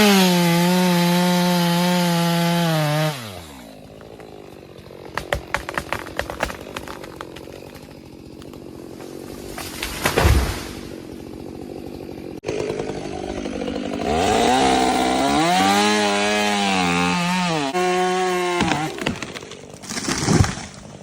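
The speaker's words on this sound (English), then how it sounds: "workers use a chainsaw with a long bar to trim" A chainsaw with a long bar idles loudly at first, then bites into tree wood in a large garden, its engine note rising and falling through repeated cuts with brief revving bursts.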